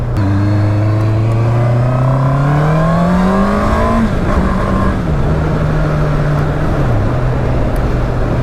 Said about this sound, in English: I like a bike to sing and I love the sound of engines